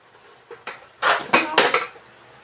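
An electric pan and dishes being handled in a home kitchen, with several clattering knocks and scrapes, a few light taps first, then louder bursts of close metallic rattling.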